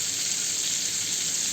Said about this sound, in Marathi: आता हे गरम झाले. त्याच्यामध्ये